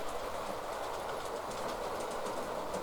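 A Hornby Turbomotive model locomotive running along its track, giving a continuous soft clickety-clack rolling noise with no gaps.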